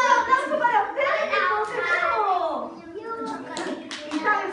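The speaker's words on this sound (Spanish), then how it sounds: "¡Un aplauso para ustedes!" A group of young children at school claps in an uneven burst while excited kids' voices and chatter ring over the clapping.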